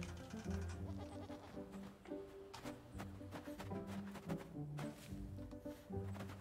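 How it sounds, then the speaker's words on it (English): A sheep bleats several times in the video game Blanc, moderately close and mixed with a busy game soundtrack and rustling. "What is wrong with this sheep?"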